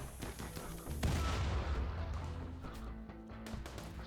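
Dense bursts of gunfire from a Rimworld mech battle crackle and boom in rapid, overlapping volleys, loud and continuous with a heavier impact about a second in, no talk over it.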